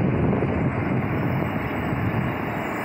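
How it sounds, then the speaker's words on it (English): Strong wind blowing across the shore of Lake Erie at Rocky River Park on a morning of rough, churning water, a loud steady roar with no voices. "A little windy here this morning."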